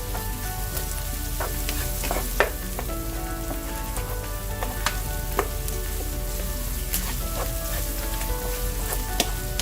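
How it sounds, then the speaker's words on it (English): Onions fry in a pan for a mutton biryani, a loud, constant sizzle with sharp scraping and tapping as a utensil breaks them up and stirs them every second or so. "Break it up as you fry it."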